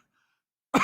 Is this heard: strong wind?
no